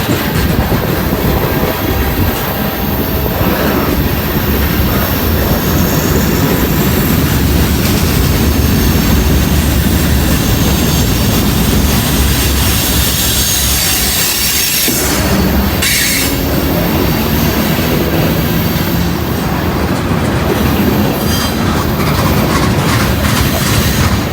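A Norfolk Southern freight train rolls steadily past outdoors on a cold, breezy day, loud and continuous rumble with wheel squeal and clattering cars throughout, no talk.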